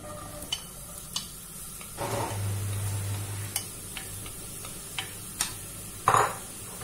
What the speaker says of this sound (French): Vous mettez l'équivalent de 2 à 3 cuillères à soupe d'huile. Et je vais venir mettre mes oignons.